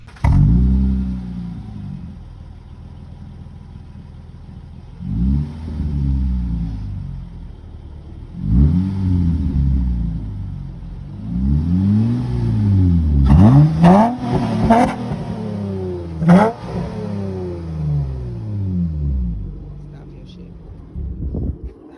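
A 4th-generation Acura TL engine with a raised rev limiter revs repeatedly, several rising and falling swells that climb higher toward the middle, loud and close, with a voice heard over it.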